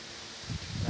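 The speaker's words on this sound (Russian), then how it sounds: "Ветер сегодня сильный" Strong wind rustles through trees in gusty surges, a broad steady hiss that rises into louder whooshing bursts toward the end.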